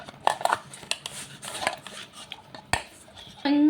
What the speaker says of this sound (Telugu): ఇలా మిగిలిన అన్నంతో చపాతీలు చేసుకొని తినడము వేస్ట్ చేయకుండా అనమాట ఇలా బాగా కలిసేలాగా కలిపేసుకోవాలి